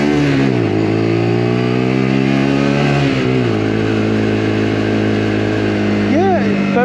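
The Lexmoto LXR 125 motorcycle engine hums steadily while riding, a loud close drone with pitch shifts through the gears and wind noise throughout.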